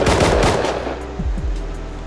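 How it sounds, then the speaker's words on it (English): Automated turret in the survival game Rust firing a rapid burst of gunfire, loud and close, the shots echoing and fading into a dull rumble with a few trailing thuds. "That turret's gonna kill me"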